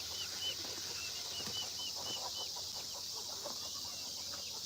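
Chickens, including Polish and Silkie breeds, on a small farm settling in at dusk before the coop door closes, with soft clucks, a brief flutter of wings and scattered chirps over a steady background hiss.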